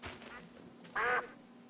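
One short, loud duck quack from a duck in modded Minecraft, clear and close against quiet background noise.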